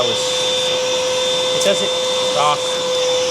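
A Black+Decker Dustbuster Flex handheld vacuum runs with a steady high whine and constant airy motor hum, close and loud, with a couple of brief rattles as debris is sucked in.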